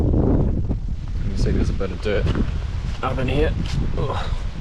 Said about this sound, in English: sorry about the wind, it's bloody windy today